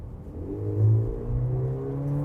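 Engine of a Volkswagen Nivus GTS roars as the car accelerates along a straight, a low rising drone whose pitch climbs steadily, heard from inside the car without talk.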